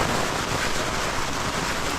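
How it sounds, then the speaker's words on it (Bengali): Steady rain falling outdoors, a dense, even wash of noise without pause and no talking. "বৃষ্টি এখনো পড়ছে।"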